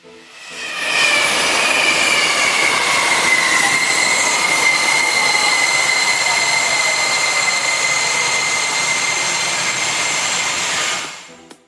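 A German Siemens high-speed electric train rushes past with a loud, steady roar, hiss and high whining wheel tones that slowly fall in pitch.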